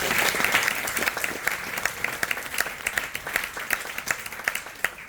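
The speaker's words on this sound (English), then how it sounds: "I would love to hear some applause for us." An audience at a lecture applauds, a dense burst of clapping from many hands in a hall that thins to scattered claps toward the end.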